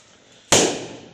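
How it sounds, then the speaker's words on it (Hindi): A single firecracker bursts at a birthday celebration, one sharp loud bang out of near silence that decays over about half a second. "बम विस्फोट चालू है।"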